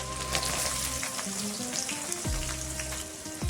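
Chopped onion hitting hot oil with cumin seeds and garlic in a kadai, a steady loud sizzle and crackle throughout with a couple of brief stirring scrapes, no talking.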